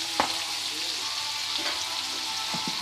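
Pork chops frying in an oiled pan, for a mushroom-sauce dish: a steady, dense sizzle continues throughout with a few brief crackles and spits, close up and without any talking.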